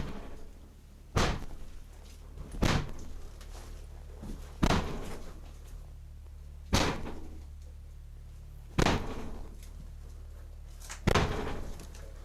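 A door moving and slamming, six loud sharp bangs spaced a couple of seconds apart, each with a brief rumbling tail, over a low steady hum.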